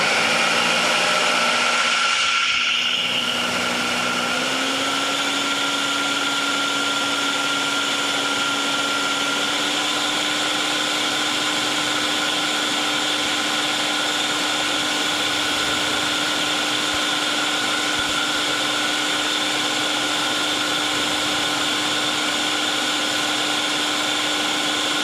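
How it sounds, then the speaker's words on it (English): A blender purees chocolate mousse in a home kitchen with a steady, loud motor whine that holds for the whole stretch, its pitch stepping up slightly early on as the blades catch, with no talking over it. "we're just probably gonna blend it one more time"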